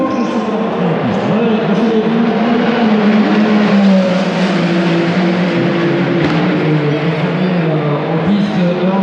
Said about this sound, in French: les deux Porsche sont dans la piste